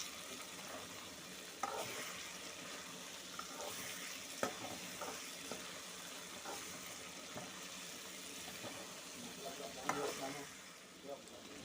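Masala fries in a pan for a fish curry, a faint, steady sizzle with scattered stirring clicks and scrapes, quiet and close, with no talking.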